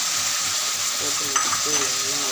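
Beans, carrot and potato sizzle and crackle in a hot pan for vegetable biryani while being stirred, a steady frying hiss with scraping stir sounds and faint bubbling.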